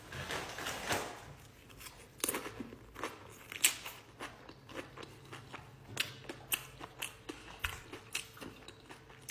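Close, crisp crunching of Doritos chips eaten with chipotle and sour cream, irregular bites and chews repeating throughout with no talking.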